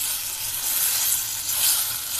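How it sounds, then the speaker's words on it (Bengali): Spice pastes of green chilli, onion and nut fry in a pan for prawn malaikari, giving a loud continuous sizzle with light stirring and no talk. "সব উপকরণ আমরা একসঙ্গে দিয়ে দিলাম। দিয়ে এটা ভালো করে নাড়তে হবে"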